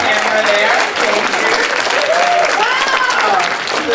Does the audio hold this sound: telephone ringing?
no